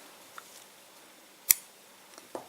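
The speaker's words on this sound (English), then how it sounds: "You can cut your yarn" Scissors snip crochet yarn in one sharp, close click, with a couple of fainter handling ticks before and after in an otherwise quiet room.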